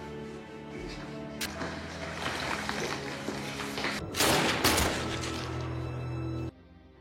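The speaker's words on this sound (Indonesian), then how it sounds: "Saat itu juga, So-hyun ditembak mati oleh tim kepolisian" Gunfire as police and a SWAT team shoot down an assassin in a film scene, a burst of sharp shots and thumps rising over a tense, loud score before cutting off abruptly.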